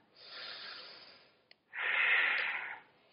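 A deep yoga breath taken while holding a high lunge: a long, close, airy inhale, a brief pause with a small click, then a stronger, rushing exhale, alone with no talk.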